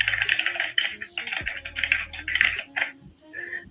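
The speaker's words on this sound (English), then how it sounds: "Click clack on that keyboard about you" Rapid keyboard typing with dense irregular clicks and clacks, close and fairly loud, running almost continuously with brief pauses, set against a low background hum.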